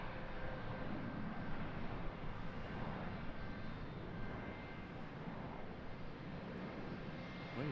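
A Boeing 717 airliner taxis at Charlotte airport, its engines giving a steady, continuous roar and whine at moderate distance that holds level throughout, with no voices.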